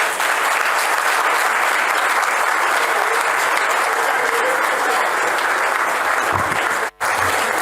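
At a petroleum committee round table, a room of delegates claps loudly and continuously, the dense sustained applause dropping out briefly near the end before carrying on.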